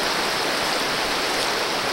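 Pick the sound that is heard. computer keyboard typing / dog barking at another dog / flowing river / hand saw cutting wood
flowing river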